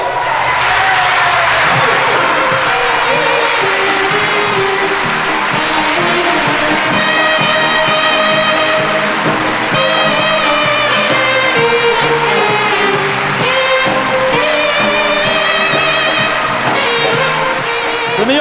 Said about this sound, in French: je crois qu'on peut lui donner un tonnerre d'applaudissements